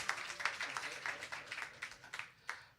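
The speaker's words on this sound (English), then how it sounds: "round of applause" A church congregation claps through a brief round of applause at a Sunday celebration service, a soft, fairly distant patter of many hands with a few louder individual claps.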